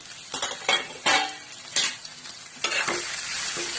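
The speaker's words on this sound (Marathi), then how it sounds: "व्यवस्थित फ्राय करून घ्यायचे 2 मिनिटं." Poha frying in a pan while a spoon stirs it, with a soft sizzle running underneath. Scraping strokes and light clinks of metal come at irregular intervals, close by.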